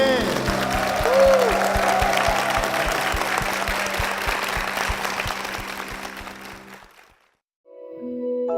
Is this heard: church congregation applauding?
yes